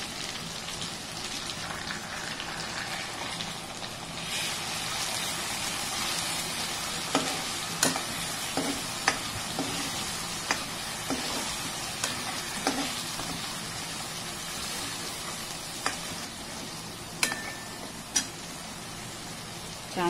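Chicken masala with Kashmiri chili powder sautéing in hot oil: a steady close sizzle runs throughout, with sharp scrapes and clinks of a spoon stirring the pan, and no talk.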